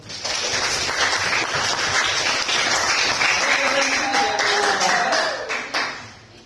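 Students in a classroom applaud together, a dense burst of clapping lasting several seconds before tapering off, with a brief voice heard near the end.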